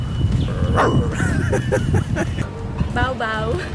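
Several voices take turns imitating dog barks, each in a different language's style, with repeated short bow-wow and yip-like calls close to the mic over steady background noise.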